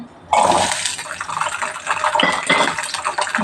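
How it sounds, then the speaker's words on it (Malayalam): Shallots dropped into hot coconut oil for a Kerala fish curry, a sudden loud sizzling crackle that starts abruptly and continues steadily up close, with a few utensil clinks, no talking. "ഞാൻ ചൂടായ എണ്ണയിലേക്ക് കുറച്ച് കൊച്ചുള്ളിയാണ് ഇട്ട് കൊടുക്കുന്നത്"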